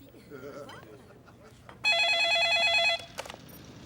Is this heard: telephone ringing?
yes